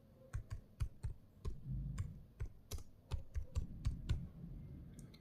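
Fingers tapping out a rapid, uneven run of sharp keystrokes on a computer keyboard while an online passport application form is filled in, each click close and distinct, with no voices.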